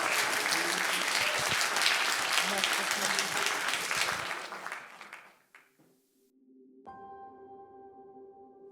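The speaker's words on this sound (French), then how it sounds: "on peut l'applaudir." Audience applause for a director at a short-film festival screening, loud sustained clapping that fades out after about five seconds, followed by a brief quiet and then steady music tones.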